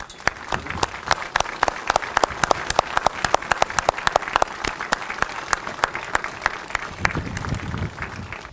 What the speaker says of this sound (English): Please join me in a round of applause for all those who continue to safeguard our history